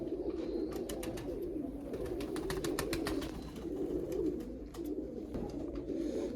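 Pigeons coo repeatedly in low, throaty murmurs, overlapping and continuous, with faint clicks and rustling nearby.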